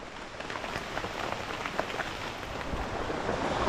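Heavy rain pours steadily in a forest during the rainy season, a dense hiss of drops pattering on leaves and ground. Scattered louder splashes stand out, with no voices.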